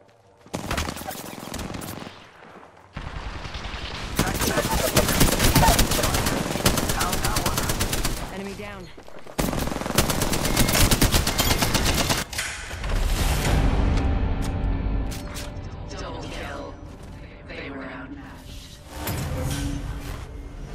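Automatic weapons blaze in the battle royale shooter Apex Legends, with loud sustained machine-gun bursts broken by short pauses and a reload, the rapid shots dense and close.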